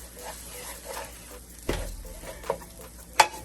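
Rice toasting in a pan with bacon seasoning, ahead of salmon going in: a steady low sizzle with light stirring and a few sharper scrapes and clinks of utensil against pan, close up, no talking.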